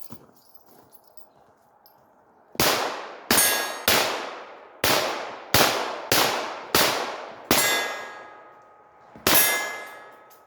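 Revolver shots striking steel targets at an outdoor range: nine sharp, loud cracks in an uneven series, each followed by a bright metallic ring that fades before the next.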